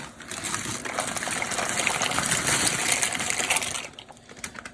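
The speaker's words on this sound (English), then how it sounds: "Our water has come to a boil. So now we're going to add our pasta." Dry pasta being added to a pot of boiling water on a stove, a steady bubbling, rushing water sound with light rattling, close and moderately loud, easing off near the end.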